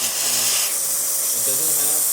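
Steam wand on a Quickmill Andreja Premium espresso machine hisses steadily and loudly with a bright, airy rush, while faint low tones hum beneath it.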